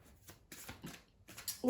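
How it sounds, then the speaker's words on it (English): Tarot cards are shuffled close up during a card reading, with soft papery riffles coming in short bursts between quiet pauses. "So let's shuffle your tarot cards. I'm going to shuffle on camera for you."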